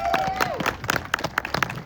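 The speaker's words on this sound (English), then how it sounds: "Give him a big round of applause" Applause and cheering from an audience at an outdoor mural dedication ceremony, with scattered claps and voices rising together in a short, lively burst.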